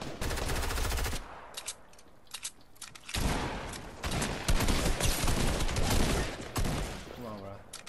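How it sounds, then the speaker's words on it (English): Another player fires on the player in a Fortnite match with bursts of rapid automatic gunfire, loud and close, in dense volleys broken by short pauses, with faint movement between the bursts. "Well, someone's still shooting at me."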